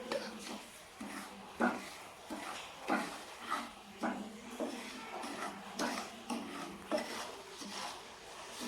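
Semolina (suji rava) is roasted in ghee in a pan and stirred with a spoon, making quiet, rhythmic scraping strokes, roughly one each second, with faint clinks against the metal pan.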